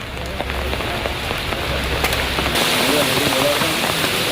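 Heavy monsoon rain in Idukki, Kerala, pours in a dense, continuous roar of drops striking surfaces, loud and close with no pauses.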